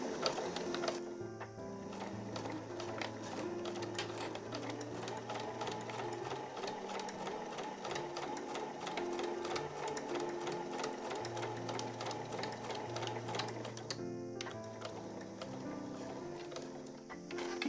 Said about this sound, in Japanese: 重なる部分は返し縫いをします。